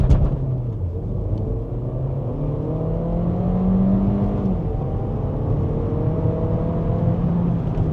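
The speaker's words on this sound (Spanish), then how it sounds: "aceleramos a fondo." A compact SUV, a 2026 Skoda Kamiq or Volkswagen T-Cross in Sport mode with stability control off, accelerates at full throttle from a standstill, its engine note rising steadily with a sustained loud whir and rumble throughout.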